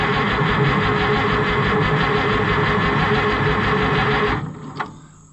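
An old White 2-70 gas tractor engine cranks steadily on old gasoline, a loud continuous mechanical churning that runs for several seconds, then cuts off and leaves a few faint clanks.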